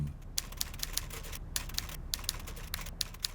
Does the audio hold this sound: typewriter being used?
yes